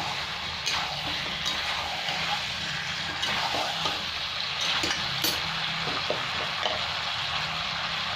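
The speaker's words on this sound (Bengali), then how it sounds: "আলুগুলো দিয়ে আর 1-2 মিনিট কষিয়ে নেব।" Potatoes frying for a Bengali-style chicken curry, with a steady sizzling hiss and scattered scrapes and clinks of a spoon stirring them in the pot.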